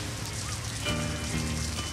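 Steady rain falls on a surface in a 1972 soul recording, a dense continuous hiss with faint tonal music running underneath.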